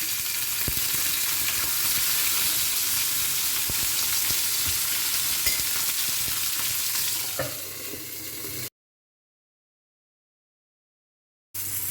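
Brinjal paturi, just flipped, fries in oil in a frying pan with a loud, continuous sizzle and faint scraping. The sizzle eases slightly near the end before a silent gap and a brief return.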